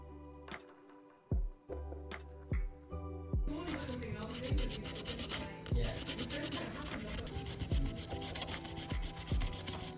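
Old adhesive being scraped off the metal chassis of an iPhone SE 2020: a few sharp ticks and taps, then a continuous close, dry rasping scrape.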